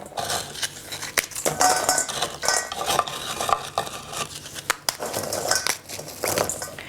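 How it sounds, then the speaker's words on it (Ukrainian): Repeated crisp cracking and snapping as brittle dessert base is broken apart by hand, with scattered clicks and crunches, close and fairly loud. "А спочатку ось так руками ламаємо, щоб швидше подрібнити."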